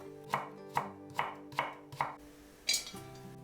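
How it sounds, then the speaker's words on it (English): A knife chopping carrots into julienne on a board, five crisp evenly spaced cuts followed by a brighter scrape, close and clear with no voices. "To make the pickles, cut into julienne"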